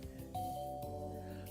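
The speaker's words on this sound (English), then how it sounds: "That was the doorbell." A video game doorbell chimes twice in a clean two-note ding-dong, the tones ringing out clearly and sustaining briefly, quiet and alone without any talk.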